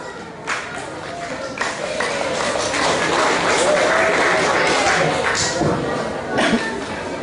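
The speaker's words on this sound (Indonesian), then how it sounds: "Kita berikan tepuk tangan sekali lagi" Audience at a village quiz competition (cerdas cermat) in Tumbakbayuh giving a sustained round of applause, steady crowded clapping that swells and holds for several seconds with scattered voices and shuffling.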